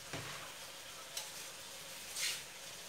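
Low, steady sizzling of food sautéing in a pan before sausages are added for hot dogs, with a couple of brief scraping stirs and no voices.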